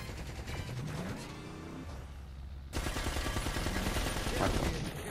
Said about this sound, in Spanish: Primera vez con la ametralladora.